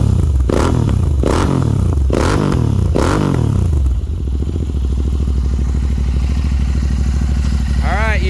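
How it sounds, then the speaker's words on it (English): Royal Enfield Continental GT 650 twin fitted with a Red Rooster exhaust, blipped four times in quick succession and then settling into a loud, steady idle close by, with a voice briefly audible near the end. "let me do another little rev up there for you"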